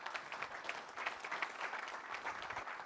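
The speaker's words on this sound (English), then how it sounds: "which I think deserves a little round of applause" Forum attendees at Georgetown University break into steady applause, many hands clapping at moderate volume, a continuous crowd patter from start to finish.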